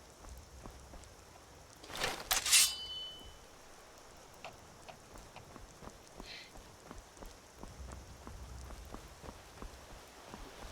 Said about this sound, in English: Very miserable to walk in the rain.